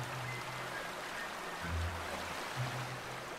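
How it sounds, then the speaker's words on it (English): Steady rushing water from a waterfall in the video game The Outer Worlds, a continuous soft wash of noise heard alone at moderate distance with a few low hums underneath. "Beautiful waterfall."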